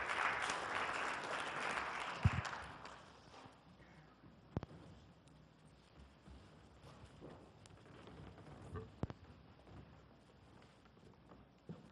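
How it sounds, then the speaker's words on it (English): Applause from a science forum audience of students, a broad wash of clapping that is strongest at the start and then thins into scattered claps and small knocks. "Round of applause."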